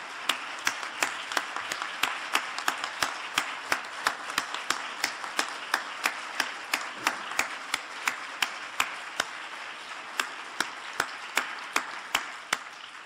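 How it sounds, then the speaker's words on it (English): Audience applause at a keynote talk on children's rights, though here it sounds more like a regular, spaced series of sharp claps, moderately faint over a soft room background, continuing without talk. "allow us to applaud you"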